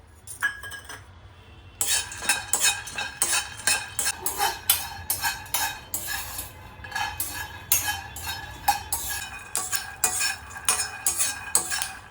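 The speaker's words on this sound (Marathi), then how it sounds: "यामध्ये ना मी शेंगदाणे भाजून घेणार आहे" Peanuts being dry-roasted in a hot pan, a close, busy run of rhythmic metallic scraping and rattling as a spatula stirs them, after a short quiet start, with no talk.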